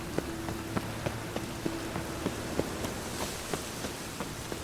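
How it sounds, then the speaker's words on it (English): Steady rain in The Witcher 3 video game, a dense, even hiss of drops close by with faint clip-clop or footstep taps recurring through it and no speech. "The city weeps neath its veil of rain."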